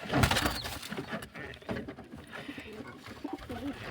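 Soft, low pigeon coos under a busy, noisy background, with some rustling and indistinct voices nearby.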